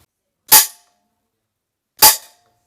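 Two sharp rifle shots from a scoped rifle fired at test targets, each a loud crack with a short decaying tail, about one and a half seconds apart in otherwise quiet surroundings.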